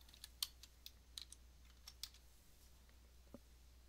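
Someone typing a short word on a computer keyboard, with scattered light clicks of keys in a quick irregular burst and a few later taps, quiet and close with no talking.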